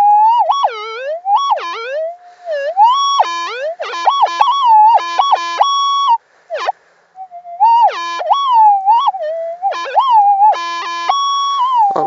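A Minelab GPX5000 metal detector sweeps near buried iron, giving a loud, continuous, warbling electronic tone that rises and falls in pitch in repeated bursts, with one short gap.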